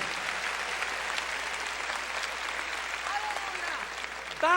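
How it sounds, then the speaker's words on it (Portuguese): A church congregation claps together during a sermon, producing a broad, even wash of applause that holds steady and moderately loud, with a faint voice surfacing near the end. "Se você puder, aplauda o nome do Senhor Jesus."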